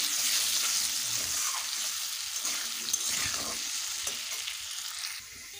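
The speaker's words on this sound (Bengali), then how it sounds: "আলুগুলোকে ভালোভাবে ভেজে নেব।" Potatoes frying in oil in a pan with salt and turmeric, a bright, hissing sizzle that fades slightly toward the end, with faint stirring underneath.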